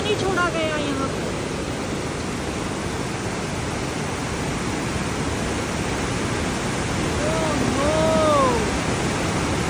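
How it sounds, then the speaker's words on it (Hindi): Water released from a barrage gushes into the Yamuna river, a loud steady broadband roar that holds through the whole stretch, with a brief exclamation from a voice near the start and faint voices later. "ये सारा पानी यमुना में जा रहा है।"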